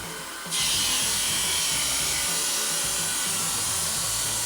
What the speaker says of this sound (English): the marble tiles are carefully cut into different shapes using a grinder